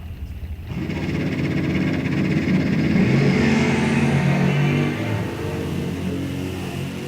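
Two 1969 muscle cars, a Dodge Dart and a Camaro, launch side by side at a drag strip with loud engines roaring and pulling away, then fading as they run down the track, and no talk over them.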